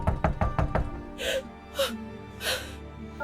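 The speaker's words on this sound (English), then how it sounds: "And they knocked upon the door." About five sharp knocks on a door come in a quick, loud run, followed by three breathy gasps or whimpers.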